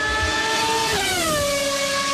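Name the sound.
old-school Formula One V10 engine revving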